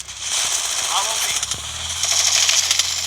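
Rapid MP50 submachine gun bursts in the Free Fire battle-royale game rattle loudly and continuously, close and dense, with a few sharper impact clicks mixed in.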